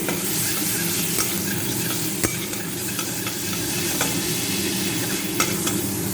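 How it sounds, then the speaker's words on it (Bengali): Garlic paste fries in hot oil over a nigella seed tempering while being stirred in a pan, a close, continuous sizzle punctuated by occasional sharp scraping clicks of the spoon, without speech. "রসুনটা একটু ভাজা ভাজা হয়ে যাবে।"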